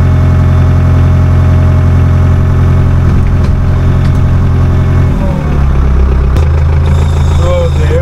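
A Ford tractor engine idles close by with a loud, steady, low rumble that drops in pitch slightly partway through, along with faint higher rattles.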